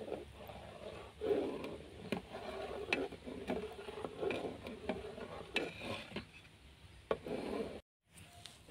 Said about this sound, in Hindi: इसमें चम्मच हम बराबर चलाते रहेंगे ताकि गुठलियाँ ना बन जाएं